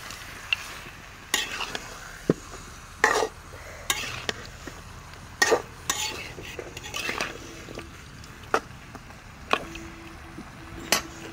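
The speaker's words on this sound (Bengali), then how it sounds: "আমি এখন আস্তে আস্তে মশলাগুলো অ্যাড করব, তার আগে একটু নেড়ে দেব" Duck curry frying in a pan, stirred with a utensil that knocks and scrapes against the metal in irregular clinks over a soft, steady sizzle, with faint talk in the background.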